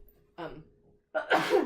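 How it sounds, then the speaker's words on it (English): A person gives a single sneeze close to the mic. A short indrawn breath comes first, then a louder burst. "sorry, I had to sneeze."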